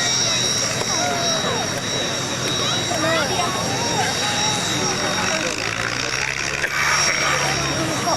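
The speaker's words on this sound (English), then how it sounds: "First of all, 2 Spitfires, then 2 Messerschmitts, then a solitary Spitfire bringing up the rear." Propeller aircraft flying overhead at the Biggin Hill Air Fair, a formation of Spitfires and Messerschmitts with a lone Spitfire at the rear, producing a steady loud drone of engines mixed with crowd and commentary noise throughout.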